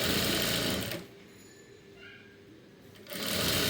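A sewing machine stitches a shapewear belt in two loud, steady whirring runs, close up, separated by a quieter pause of about two seconds.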